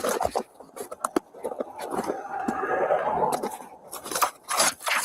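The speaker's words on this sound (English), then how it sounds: "I'm shuffling through papers, filling out paperwork." Papers being shuffled and handled while paperwork is filled out in a store setting: rustling, scraping and crinkling that comes in bursts and steadier stretches, close and fairly quiet, with no talking.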